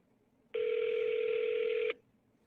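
A phone call being placed gives a single steady electronic tone lasting just over a second, clear and alone against faint background hiss.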